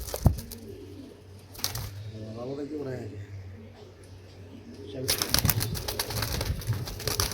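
Young grizzle racing pigeons cooing in a loft: a soft, throaty coo rises briefly amid rustling and shuffling, followed by louder clattering and wing noise close by.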